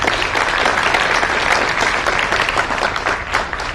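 Sustained applause from a convention audience at a horror film panel, a dense, steady clatter of many hands clapping close by for a few seconds with no talking over it.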